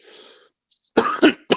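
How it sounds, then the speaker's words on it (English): A few sharp, harsh coughs close to the mic, preceded by a quieter breathy sound, with short pauses between bursts. "I'm sorry. I'm coughing."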